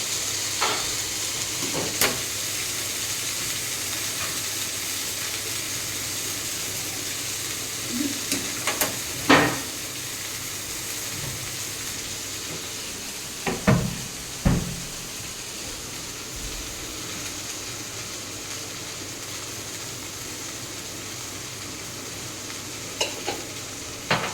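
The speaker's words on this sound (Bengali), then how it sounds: "চাউমিন ছেড়ে দিয়েছি, এবার দু ব্যাচে এটাকে ভেজে তুলবো।" Chow mein frying in a pan, a steady close sizzle of hot oil running throughout, punctuated by a few sharp clinks and scrapes of a utensil against the pan.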